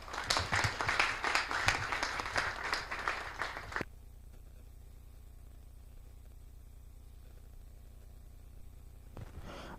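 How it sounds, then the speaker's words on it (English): Audience applause at a corporate annual summit, a dense burst of clapping lasting a few seconds before cutting off abruptly into quiet room hiss. "Let's appreciate our Group Technical Director one more time with a round of applause"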